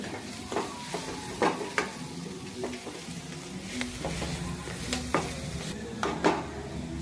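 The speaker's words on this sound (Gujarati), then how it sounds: "હવે આને આપણે સરખી રીતે હલાવી દઈએ." A spoon stirs greens (bhaji) in a cooking pan, scraping in repeated, uneven strokes over a soft, steady sizzle. The sound is close and moderately loud.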